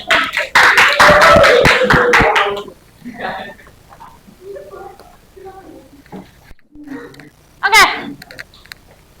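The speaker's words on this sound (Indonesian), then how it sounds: "Kasih tepuk tangan untuk kelompok 4." A classroom audience claps for the fourth student group, a burst of dense, loud applause lasting a couple of seconds before it fades and a speaker talks.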